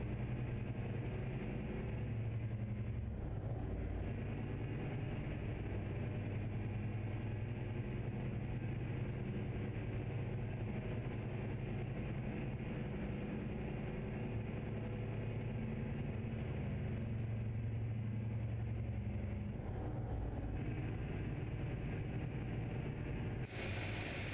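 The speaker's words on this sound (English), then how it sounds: "This truck is really loud." A heavy truck engine in a video game drones steadily the whole time, a loud, constant low rumble that barely changes, while pulling a 30-ton double trailer.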